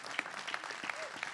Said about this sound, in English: we should applaud him